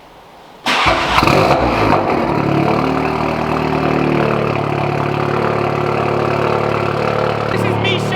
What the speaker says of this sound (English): That's how loud the cold start is